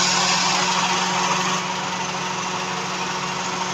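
A small engine idling steadily with a constant, slightly knocking hum, loud and close, with a brief drop in level partway through.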